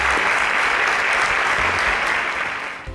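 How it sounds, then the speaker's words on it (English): A panel show audience gives a loud, dense round of applause for the panelists, a steady wash of many hands clapping close by that fades slightly at the end. "A round of applause for our panelists."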